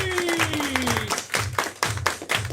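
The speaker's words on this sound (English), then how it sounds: "Let's have a big round of applause for all our players." An audience applauds at the end of a live comedy show, with steady rhythmic clapping from a modest crowd, close and loud throughout, with no clear talk.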